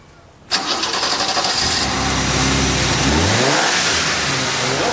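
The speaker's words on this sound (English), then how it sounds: "So, Christoph, what do you say we take her off for a road test and see how she's doing?" A BMW fitted with a performance cold air intake cranks and fires up, then revs loudly and pulls away on a road test, the engine holding a strong, close drone.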